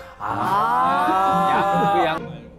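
A cow gives one long, loud, close moo lasting about two seconds, rising and falling in pitch before stopping abruptly.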